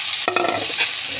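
Tomatoes dropped into a hot pan for a Filipino sarsiado begin to sizzle, with a short clatter of stirring near the mic, then a steady soft frying hiss continues alone.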